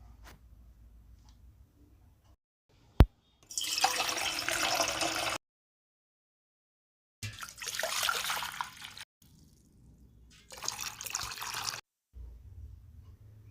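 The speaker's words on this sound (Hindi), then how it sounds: "इसका पूरा पानी हमें निकाल लेना है।" Water is poured and drained off soaked wheat during traditional kurdai preparation, heard as three separate bursts of splashing, trickling liquid. Each lasts a couple of seconds, with near-silent pauses and a low background hum between them.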